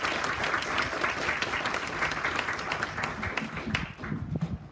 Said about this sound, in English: Let's give our veterans a big round of applause